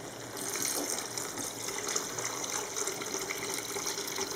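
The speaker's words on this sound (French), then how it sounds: "Donc je vais rajouter de l'eau." Water poured into a cooking pot of chicken for Moroccan rfissa, a steady soft gushing stream running for several seconds, fairly quiet and close, with no talking.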